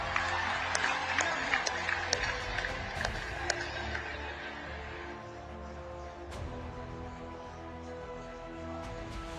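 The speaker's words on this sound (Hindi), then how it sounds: "हो जाए ताली आज आपके नाम पर।" Audience clapping at a speech by PM Modi in Assam, a dense burst of applause that holds for several seconds and then fades into a quieter crowd murmur.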